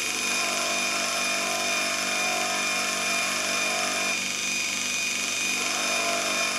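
Bench grinder spinning steadily while a lathe tool bit is ground, a constant high whine with a faint rasp of light contact, no talk.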